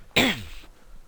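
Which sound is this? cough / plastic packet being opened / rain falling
cough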